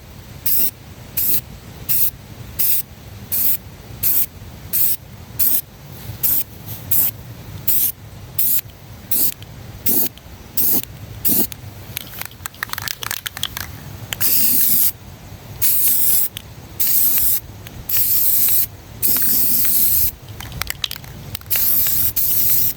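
Stops Rust white spray paint hisses from an aerosol can onto trailer rims in many short, close bursts, with brief pauses between them and a few longer sprays toward the end.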